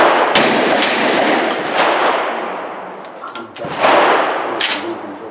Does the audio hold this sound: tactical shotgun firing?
yes